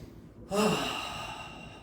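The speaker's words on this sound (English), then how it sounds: "Take a deep breath through your nose." During a home functional fitness class, someone draws one deep, audible breath in through the nose: a close, airy inhale that swells after a brief quiet moment and then slowly tapers off.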